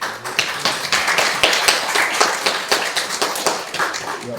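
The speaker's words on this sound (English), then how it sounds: "Let's give them a round of applause." A small church congregation at a Wednesday evening service claps, with individual hand claps distinct and uneven rather than a dense roar, close and moderately loud for several seconds.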